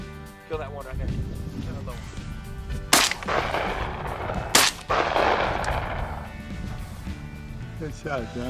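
Shotgun blasts fired while duck hunting in Louisiana, two sharp loud reports about two seconds apart over a steady background, with people talking close by.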